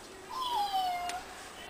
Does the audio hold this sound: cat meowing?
yes